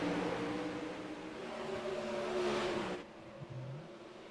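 360 sprint cars racing in iRacing at USA Speedway during a heat race: a loud, steady engine roar with a high whine that swells, then drops away abruptly near the end, leaving a fainter drone.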